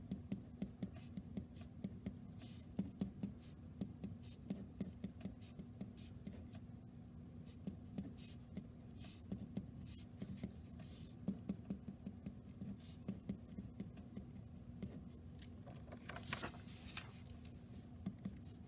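Pen scratching across a sheet of paper while working a math problem, a close, quiet stream of quick strokes and taps with short pauses between bursts, no talking.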